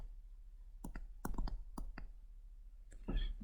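Computer keyboard keys clicking during an online lesson, a few scattered close taps in small clusters over a quiet room hum, faint overall.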